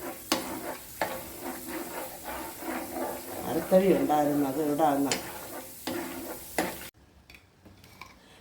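Chana dal sizzles and crackles in hot oil while a spoon stirs the pan, with a person talking over the frying.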